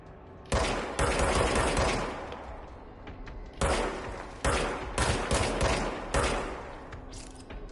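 A gun firing in the video game Control, loud sharp bursts of rapid shots in three clusters, each trailing into a short echoing decay.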